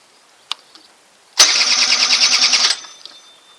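A scooter engine, with its variator being worked on, cranks on the electric starter in one loud, churning burst of just over a second, preceded by a faint click, then falls quiet.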